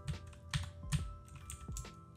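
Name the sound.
typing on a computer keyboard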